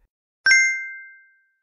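A notification bell sound effect: one clean, bright ding struck once, ringing alone and fading smoothly over about a second.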